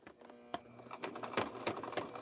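A sewing machine stitches a rope handbag in quick mechanical bursts, rapid clicking and thumping strokes with a faint motor hum underneath, fairly quiet and close, with no voices.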